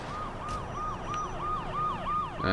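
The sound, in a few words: police car siren in the video game Saints Row 2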